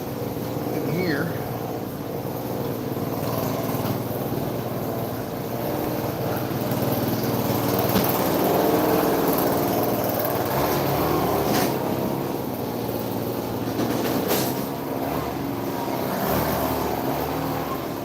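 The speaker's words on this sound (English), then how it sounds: "Sorry about that damn blower, guys. My roofer's trying to clean up his mess." A leaf blower droning steadily nearby as a roofer cleans up debris, a constant loud engine whine throughout with faint background clatter and a voice heard under the noise.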